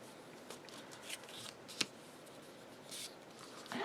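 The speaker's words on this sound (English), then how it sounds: "really good burnish to get them stuck." Paper tabs are burnished onto a Hello Pumpkin rolling spine craft album page, giving quiet scattered rubbing and scraping strokes with a few light taps, close and soft against a low background hiss.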